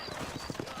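Horse hooves clip-clopping in a Western video game, a steady run of close, rhythmic hoofbeats with a faint whinny-like tone over the top.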